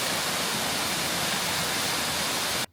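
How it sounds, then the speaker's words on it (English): A New Zealand waterfall seen on a hike roars as a constant, full wash of rushing water, loud and close, and cuts off abruptly at the end. "This is actually the first time I've seen this waterfall."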